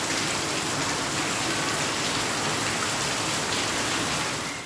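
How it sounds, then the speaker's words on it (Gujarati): Monsoon rain showers pour down in the Mundra area of Gujarat, a dense, steady hiss of rain striking surfaces that stays even and loud throughout, with no voices. "મુંદ્રાના બબાર વિસ્તારમાં પણ વરસાદી ઝાપટા પડતા"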